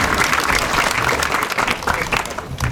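Enthusiastic applause from an audience at an official government ceremony, a loud, continuous crowd of clapping hands with slight swells, filling the whole short stretch.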